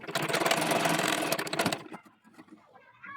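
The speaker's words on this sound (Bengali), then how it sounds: "তো প্রথমে একটা সেলাই দিয়ে ঘুরিয়ে আরেকটা সেলাই দিয়ে নিচ্ছি।" Close, loud sewing machine running in a steady fast whir as it stitches fabric for a baby dress, stopping after about two seconds, followed by quiet handling noises.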